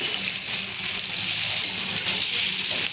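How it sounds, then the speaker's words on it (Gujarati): Tomatoes and chillies sizzle and hiss in hot oil in a pan while being stirred for a vegetable pulao, a steady, close frying sound with faint stirring throughout. "હવે આપણે આમાં ટમેટાં અને મરચાં ઉમેરીશું। પછી બરાબર હલાવી લઈશું।"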